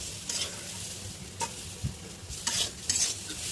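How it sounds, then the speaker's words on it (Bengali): Rice for paneer pulao fries with spices and potatoes in a pan, a quiet sizzle broken by several brief scraping stirs of a spoon. "এবার চালটা দিয়ে মশলা আলু টালুর সঙ্গে ভালো করে ভাজা ভাজা করে নেব।"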